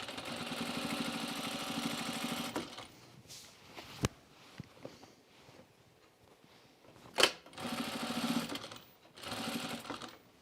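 A sewing machine stitches around a cropped jacket's neckline through thick layers of collar and facing, running in a steady buzzing burst, pausing with small clicks, then running again close and clear.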